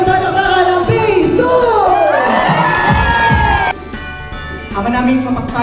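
A crowd of children at a neighbourhood Christmas party shouts and cheers loudly together, a rising, excited roar of many voices that cuts off abruptly partway, then resumes more softly.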